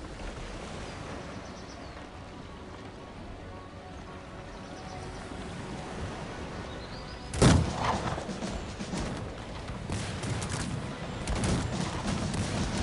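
Cannon and musket volleys in the Cossacks 3 strategy game break out after a long stretch of low battlefield rumble: one loud, sharp blast leads into a scattered run of further shots and booms.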